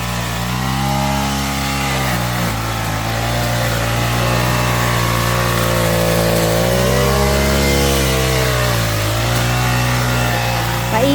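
A grass cutter's small engine runs loudly and continuously, its pitch rising and falling as the throttle is worked while mowing long grass outdoors, close by and with no talk.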